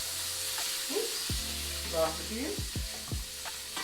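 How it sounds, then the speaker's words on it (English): Greens sauté in olive oil for a soul food Sunday supper, a faint steady sizzle running underneath a person speaking briefly nearby. "as we're sauteing them in that olive oil, see how pretty and green they're staying"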